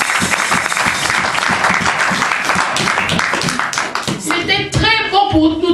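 A church congregation applauds and acclaims, with dense, continuous clapping mixed with raised voices and cheers throughout.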